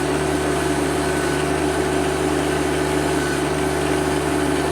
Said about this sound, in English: it's just spinning instead of bringing it up and out of the hole